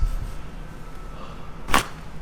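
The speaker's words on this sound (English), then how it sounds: "Did you hear that crack?" A single quick, sharp joint crack sounds during a full-body chiropractic adjustment, a brief snap standing out over a low room background.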